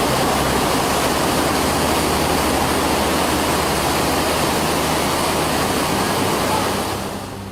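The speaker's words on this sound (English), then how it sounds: "I used to think water only sustained life until I saw it transform an entire landscape into a gigantic waterfall" A gigantic waterfall roars as a dense, continuous broadband rush of falling water, loud and unbroken before fading slightly at the very end.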